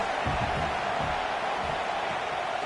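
Stadium crowd at a Notre Dame vs Iowa college football game, a steady broad roar of many voices rising against the offense, loud and continuous throughout with low murmuring underneath.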